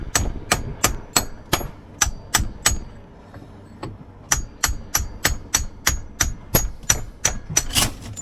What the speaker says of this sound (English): I'm using this cold chisel to get it down.